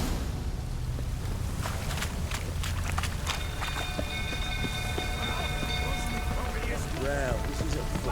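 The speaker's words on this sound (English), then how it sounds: "Looks like rain." Steady rain falls in The Witcher 3, a constant wash of patter under footsteps, clatter and faint voices in a game scene, moderately quiet throughout.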